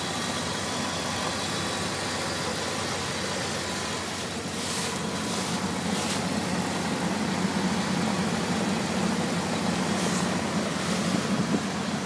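A 1996 Dodge Ram Indy Pace truck engine idles steadily, a dense, even rumble running alone with no talk, loud and close throughout.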